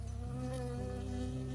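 A bee buzzing close by in the Firewatch video game, a steady droning hum that wavers slightly in pitch, alone and fairly quiet.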